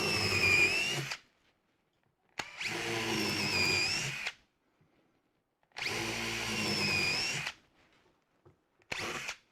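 A power drill drives screws to stitch boards together, starting slowly before the screw grips, in three long whirring bursts separated by silence, with a short fourth burst at the end.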